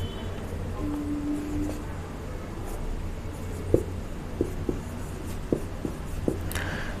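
A pen writes on paper with soft scratching and a few light taps as strokes begin, faint and close against a quiet room hum, with no talking.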